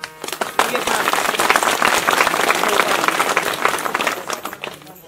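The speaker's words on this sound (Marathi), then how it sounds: "सगळ्यांना एकदा जोरात हाताने टाळी वाजवायची" A crowd claps loudly and continuously for several seconds, dense and close, with voices mixed in, at a religious discourse gathering.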